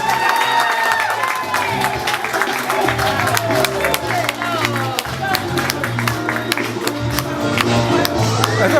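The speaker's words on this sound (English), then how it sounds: "Please give them a round of applause" Crowd applause and cheering at a 50th birthday celebration, steady and dense clapping with scattered shouts and voices filling the whole stretch.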